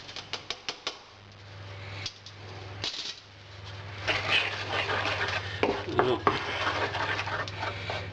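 Sticky pork rib ingredients with tomato paste are stirred in a bowl, giving a string of wet clicks and scrapes, then a denser patch of mixing noise, under a steady low hum.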